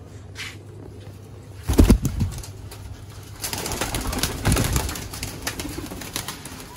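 Sialkoti pigeons coo softly in a loft, then bursts of wing flapping and scuffling erupt up close, twice in loud flurries, with a few scattered faint calls between.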